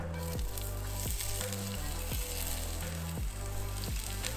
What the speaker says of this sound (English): we're gonna put our onions in now.